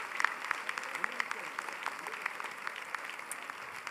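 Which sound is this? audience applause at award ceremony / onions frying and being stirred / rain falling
audience applause at award ceremony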